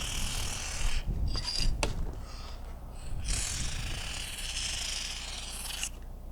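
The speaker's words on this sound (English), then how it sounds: "you can go ahead and spray this stuff into these side tracks as well" Several hissing bursts of dry lube sprayed into RV window tracks, of different lengths, separated by pauses, with faint mechanical rubbing underneath.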